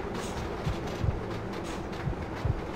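Train running in Red Dead Redemption, a steady rolling rumble with a few rhythmic low wheel thumps like rail joints, moderately loud and continuous throughout.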